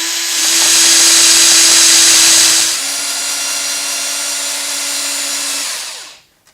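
A cordless drill sands the barrel channel of a wooden 10/22 rifle stock, whining steadily and loudly up close, then dropping to a lower pitch and finally winding down as its battery dies, with no talking.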